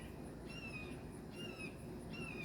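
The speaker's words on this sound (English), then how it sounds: "Hear that bird?" Faint outdoor birdsong: a bird repeats a short whistled call about three times at even intervals, distant and soft above a steady low background hiss.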